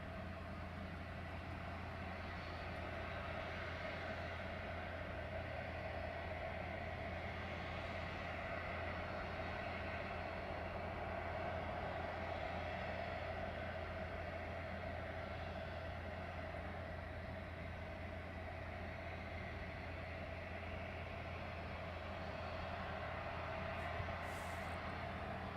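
A Ryanair airliner taxiing at East Midlands Airport at night, a steady, continuous jet engine rumble and whine holding level throughout, moderately distant with no break or rise.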